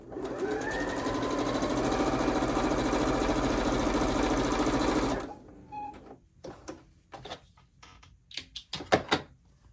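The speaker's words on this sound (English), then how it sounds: "Sewing a 1/4 inch seam." A sewing machine stitches a quarter-inch seam on a quilt block, running loud and steady for about five seconds before stopping, then followed by scattered handling clicks and fabric rustles.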